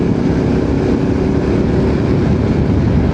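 Honda C90 motorcycle fitted with a 110 engine running on a wet road, a loud, steady engine drone with rumbling low end and wind noise, constant and close with no gaps.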